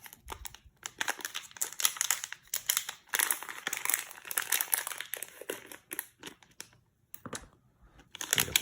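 Product packaging is unwrapped and crinkled close by in bursts of crackling plastic, with brief quiet gaps between the handfuls.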